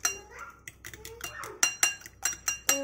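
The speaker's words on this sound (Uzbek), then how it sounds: "Buningga muvofiq miqdorda tuz to'kib toza aralashtiraman" Two eggs with salt are whisked in a bowl, giving quick metal clinks and taps against the dish in uneven bursts, close and fairly loud, with a voice speaking in between.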